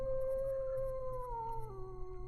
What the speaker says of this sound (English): You freeze as a wolf's howl sends shivers down your spine.